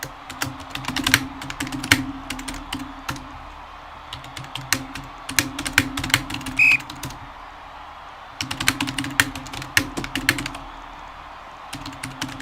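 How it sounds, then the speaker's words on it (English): Loud, close computer keyboard typing in rapid bursts of clicking keystrokes, separated by short pauses. "I know someone was blasting me for my typing being so loud yesterday"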